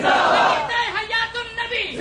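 Crowd at a religious gathering shouting slogans in unison in reply to a leader, a loud massed roar of voices that swells at first and then breaks into shorter rhythmic chanted phrases.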